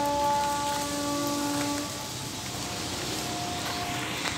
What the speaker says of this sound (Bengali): বৃষ্টি চলছে।